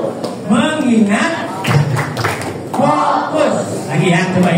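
Primary school children in a sixth-grade class perform a rhythmic focus clap, chanting loudly in unison with a few sharp hand claps punctuating the chant.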